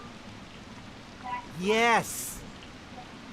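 Steady hiss of rain falling in the video game Wild Hearts, a constant wash throughout, briefly covered midway by a short excited shout.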